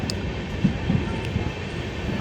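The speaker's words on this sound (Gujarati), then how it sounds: "ધીમી પડી જ ગઈ છે ઓલરેડી ટ્રેન" A passenger train on the Rajkot–Kanalus line slows down, its low steady rumble and rolling wheel noise close and continuous, with a few soft clanks over the drone.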